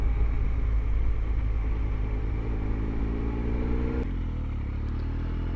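A Triumph Tiger 1215cc adventure motorcycle engine drones under way, with a loud steady rumble and wind buffeting; the pitch eases slightly, then shifts abruptly as the revs change near the end.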